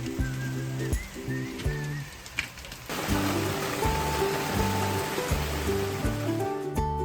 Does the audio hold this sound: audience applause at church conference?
no